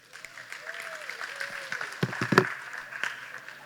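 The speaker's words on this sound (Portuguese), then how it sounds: "Isso, pode aplaudir assim, ó." A congregation claps briefly and discreetly in a tent, a soft patter that builds to a few sharper claps near the end, while someone speaks over it.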